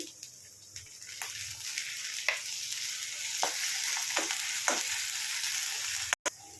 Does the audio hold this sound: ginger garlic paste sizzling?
yes